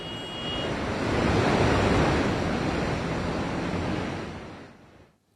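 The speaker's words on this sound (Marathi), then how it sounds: "नद्यांना मोठ्या प्रमाणावर पूर आलेला आहे आणि पाणी वाहत आहे" Floodwater from heavy rain surges down a swollen river near Nashik, a steady broad roaring rush that builds and holds loud, then fades out at the end, with no voices.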